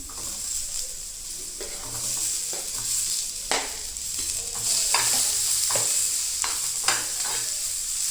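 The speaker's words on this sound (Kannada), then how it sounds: "ಸ್ವಲ್ಪ ಚೆನ್ನಾಗಿ ಫ್ರೈ ಆಗಿದ ತಕ್ಷಣ ಇದರಲ್ಲೇ ಆನಿಯನ್ ಹಾಕ್ಕೊಳ್ತಾ ಇದ್ದೀನಿ" Onions sizzle in hot oil in a pan with ginger, an ongoing hiss broken by repeated scraping stirs of a spoon, close and fairly loud, with no talking.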